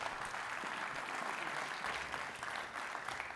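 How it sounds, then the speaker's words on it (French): Dense, steady applause fills a French industry award ceremony, a continuous wash of many hands clapping at moderate volume with no distinct individual claps and no speech. "Applaudissements"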